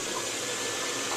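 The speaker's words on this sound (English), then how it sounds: "Getting water into the tub." Water rushes steadily into the tub of a Whirlpool Duet Sport front-load washer as it fills, a faint continuous hiss with no voices.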